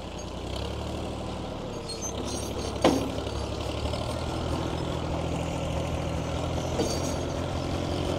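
A Ford 8N tractor's flathead engine, fitted with a Funk conversion, runs at a steady low idle, a close, heavy, continuous rumble with one brief knock partway through and no voices.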